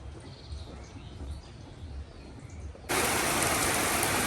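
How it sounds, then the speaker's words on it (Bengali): A quiet outdoor stretch gives way abruptly to a loud, dense hiss of heavy rain pouring down, which continues steadily to the end. "বৃষ্টি হচ্ছে"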